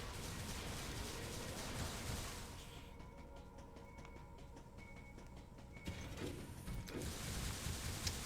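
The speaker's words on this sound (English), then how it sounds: "Now I'm gonna have to take 2 elevators to get back to the room I was in before." An elevator in the video game Metroid Other M gives off a mechanical whir with ratcheting clicks, shifting into a quieter hum with faint periodic tones before the louder machinery returns.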